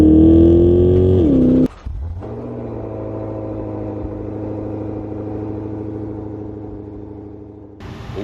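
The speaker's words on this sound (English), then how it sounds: "Best sounding V8 in the world?" A Maserati GranCabrio convertible's V8 revs loud and close, a rising engine note that cuts off sharply, then settles into a deep, steady idle rumble before another burst at the end.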